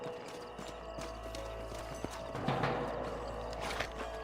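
Horses' hooves clip-clop steadily over a constant rumbling background, with a brief whinny partway through, in a canyon in the video game Red Dead Redemption.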